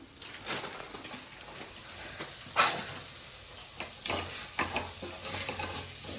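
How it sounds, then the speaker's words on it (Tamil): Tomatoes are sautéed for a chicken biryani in a village kitchen, with a soft sizzle under scraping stir strokes that come in bursts, close by, with no voices. "தக்காளி வந்து நல்லா பேஸ்ட் ஆகட்டும் ஃப்ரெண்ட்ஸ், அது மாதிரி நல்லா வதக்கலாம்"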